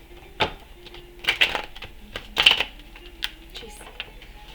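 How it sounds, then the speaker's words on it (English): A Witch's Tarot deck is shuffled in a handful of separate crisp, clattering bursts, with a voice speaking faintly between them. "Witch's Tarot has not been wanting to shuffle."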